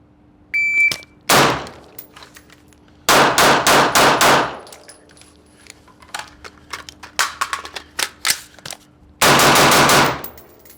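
Gunshots on a timed shooting drill: a sharp lone report, then a quick string of about five rapid shots, and another close burst near the end, all loud and near with quieter clatter between.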